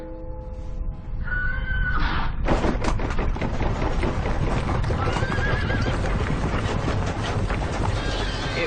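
A horse whinnies loudly at the start, then a steady stream of close hoof clip-clops fills the rest, with several horses moving together over hard ground.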